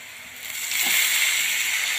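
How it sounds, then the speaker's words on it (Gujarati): About a glass of water is poured into a hot pan of roasted masala and potatoes for moraiya khichdi, and a soft sizzle swells into a louder, sustained hissing slosh. "1 ગ્લાસ જેટલું પાણી રેડું છું હું"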